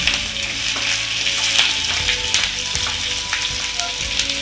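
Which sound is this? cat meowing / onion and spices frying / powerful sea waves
onion and spices frying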